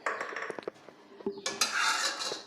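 A spoon stirring minced pork laab with toasted rice powder, fish sauce and fermented fish sauce in a pan, giving close, light scraping and clinking of utensil against metal with short clatters and a wetter rustle toward the end.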